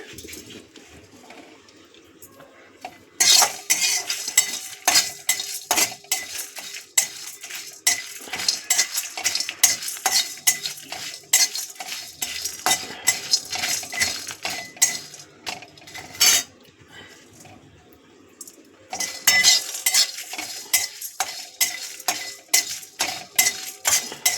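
Katla fish head and cabbage being stirred in a pan, with repeated metal-on-metal scraping and clinking of a spatula in bursts, pauses between them and soft background hiss.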